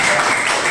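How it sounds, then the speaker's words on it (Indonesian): Applause from a classroom of students, a short burst of steady clapping that fills the room at full loudness with no break. "Beri tepuk tangan"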